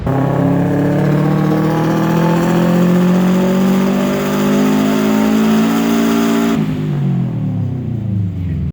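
An Acura RSX engine on a dyno revs loud and steadily climbing in pitch at full throttle as VTEC engages, then drops off abruptly as the revs fall away.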